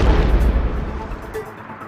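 A car bursts into a loud explosion after catching fire, a heavy low boom rolling into sustained rumbling and crackle that slowly fades over about two seconds.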